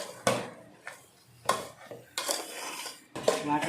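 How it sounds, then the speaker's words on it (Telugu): A utensil clanks and scrapes against a metal pot on the stove in irregular strokes while semolina laddu mixture is stirred, with a faint sizzle between the knocks. "పొయ్యి మీదకి తీసాం. ఇప్పుడే నేను కలుపుచ్చా ఒకసారి"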